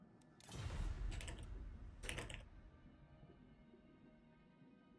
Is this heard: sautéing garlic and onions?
no